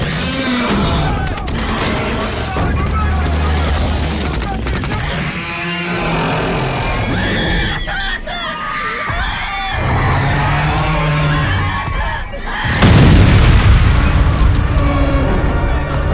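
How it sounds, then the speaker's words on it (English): Staged emergency scenario set on the Golden Gate Bridge, with dense, loud gunfire and explosions. Booms and shouting run throughout, ending in a heavy blast. "Open fire!"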